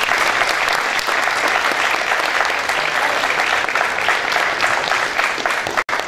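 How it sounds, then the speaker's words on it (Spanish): A large audience applauds a doctor at an outdoor groundbreaking event for an athletics track, loud dense clapping sustained evenly throughout, close and full, ending in a brief dropout near the end. "les pido un aplauso por favor para el doctor"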